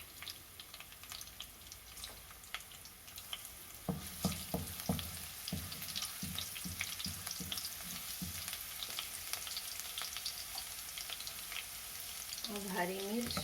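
Garlic sizzling in about four tablespoons of hot oil in a home kitchen pan, a steady crackling hiss throughout with a cluster of stirring or clattering knocks in the middle and a brief tonal squeak near the end.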